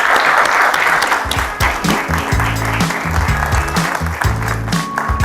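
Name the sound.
audience applause welcoming a speaker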